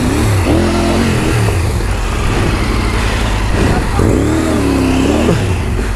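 Carbureted Honda Hornet motorcycle engine revving hard on a rough dirt trail, loud and close, with rising and falling throttle surges as the bike struggles over a rocky ledge.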